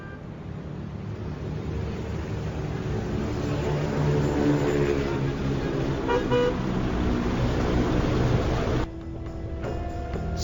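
A Jakarta traffic jam of motorbikes and cars trapped in a Transjakarta bus lane: a steady engine roar with repeated car horn toots over it. The dense din cuts abruptly near the end.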